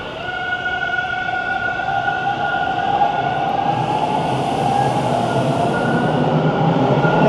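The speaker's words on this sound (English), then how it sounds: "I just got off a train here at Runnymede Station on line 2, the Bloor line" A Toronto subway train on Line 2, the Bloor line, at Runnymede Station on a cold afternoon, with loud continuous rumble and sustained high wheel squeal and whine that build steadily, close by, with no talk.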